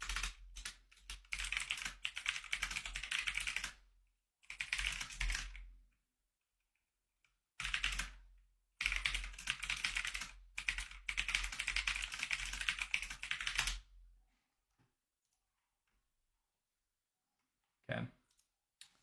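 Typing on a computer keyboard, rapid dense clicking in long bursts separated by short pauses, close and fairly quiet, ending with a single isolated click.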